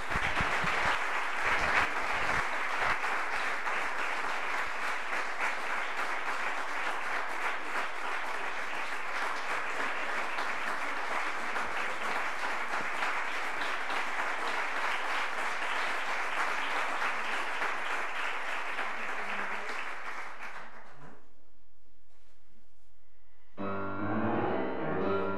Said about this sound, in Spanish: para el que pido un fuerte aplauso